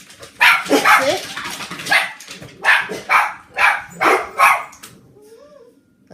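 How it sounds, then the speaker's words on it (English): Loki, a pet dog, barks indoors in a run of about eight loud, close bursts, some of them doubled, with short gaps between them and a faint whine near the end. "I don't know what he's barking at"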